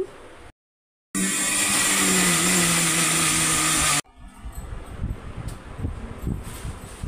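A kitchen mixer grinder whirs loudly and steadily while grinding garlic and chili paste, then cuts off abruptly, leaving softer clattering and handling noise.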